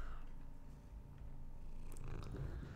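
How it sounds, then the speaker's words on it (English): A cat purrs softly and continuously, a faint close rumbling loop with a few light rustles near the end and no speech. "Hello, cat."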